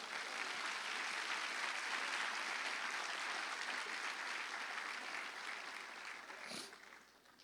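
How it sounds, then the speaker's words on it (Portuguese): A church congregation applauds together in a long, dense, steady burst that fills the space, tapering slightly toward the end. "Vamos aplaudir o Senhor, amém?"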